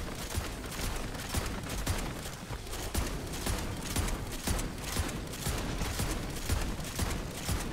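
Sentry gun firing continuously in MW Zombies, a dense rapid rattle of automatic shots running the whole time amid game noise, with no talking.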